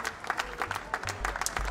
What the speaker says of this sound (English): There's Brian's fiancée Sonia in the audience cheering him on